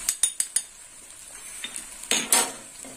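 A metal spatula or spoon scrapes and clinks against a pan while shrimp and runner beans with turmeric and green chilli paste are stirred, several sharp taps at first, then softer scrapes and a faint sizzle.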